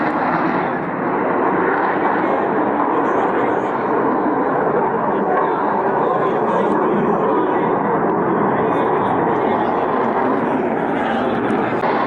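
A Sukhoi fighter jet flies during the Indian Air Force's Vayu Shakti 2022 exercise, a loud, steady broadband roar that holds unbroken for about twelve seconds.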